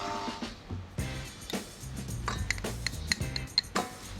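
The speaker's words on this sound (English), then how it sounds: "I'm going to slowly add it to my batter of eggs and sugar." Baking powder and flour being added to a bowl of egg and sugar batter, heard as a run of clinks and taps of utensils against the bowl with low mixing thuds, close and fairly busy, with no voices.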